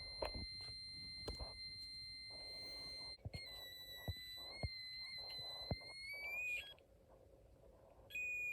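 Snap Circuits Extreme SC-750 whistle chip circuit imitating a cicada: steady high electronic tones with a sudden rising shift, brief sharp clicks scattered throughout, and a fresh burst of tone near the end.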